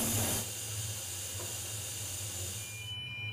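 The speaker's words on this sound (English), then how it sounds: "Well, steam is definitely coming in now." Steam hisses steadily into a smoke detector test chamber, a continuous broadband rush with a slightly louder opening burst, close and alone with no voices.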